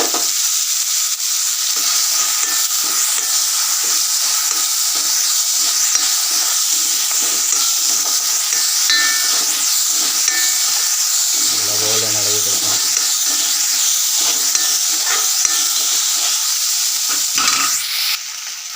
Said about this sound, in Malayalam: നമ്മൾ കുറച്ച് ഉപ്പിട്ട് കൊടുത്തിട്ടുണ്ട് ഇനിയിപ്പോൾ നല്ലോണം പോലെ ഒന്ന് ഇളക്കണം